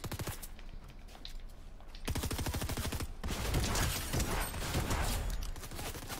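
Rapid bursts of Fortnite gunfire crackle continuously, sharp repeated shots in fast volleys with a steady battle din beneath, loud and close.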